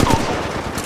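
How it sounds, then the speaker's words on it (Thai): A quick burst of rapid gunfire from the mobile shooter Apex Legends Mobile, several sharp shots in fast succession, loud and close, over faint game ambience. "มีการยิงแล้วมันก็โดนฉัน"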